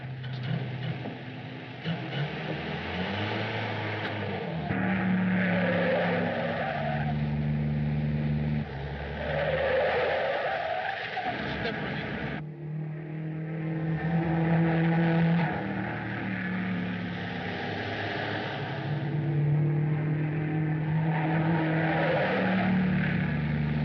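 Car engine roaring steadily at speed in a 1939 city chase, a sustained loud drone with a brief break midway, music-like tones layered over it and no talk.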